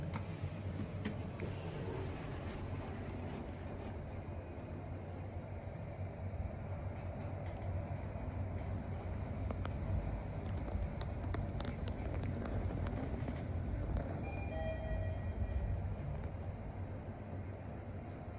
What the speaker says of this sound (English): These are Mitsubishi elevators.